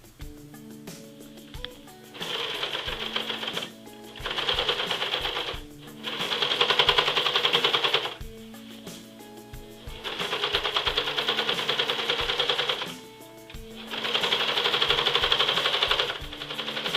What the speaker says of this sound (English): I have a serger. I'm going to serge the excess off.